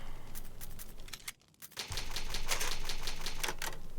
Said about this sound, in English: I do like the sound of typewriters.